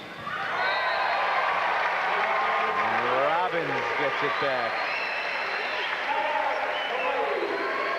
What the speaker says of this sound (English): Crowd in homage, paying its respect